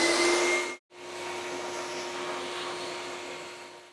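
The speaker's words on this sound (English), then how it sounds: "Please make sure the vacuum is connected in the correct port" A vacuum extraction unit pulls loose powder out of a 3D printer, a loud steady whooshing drone with a constant hum that cuts out for a moment, then resumes and runs on evenly.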